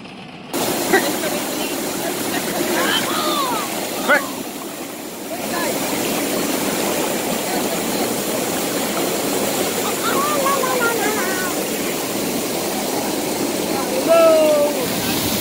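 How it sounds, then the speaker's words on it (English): A waterfall near Rotorua, New Zealand, roars as a steady broadband wash of falling water throughout, with a brief quieter dip early on and faint voices and bird-like chirps occasionally cutting through. "We found a waterfall, haven't we?"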